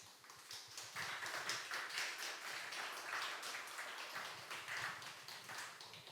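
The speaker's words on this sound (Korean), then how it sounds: "여러분 따뜻한 박수로 맞아주십시오" A steady wash of applause from a crowd at a meditation expo talk concert in Seoul, dense clapping holding at an even level throughout, somewhat distant and without voices over it.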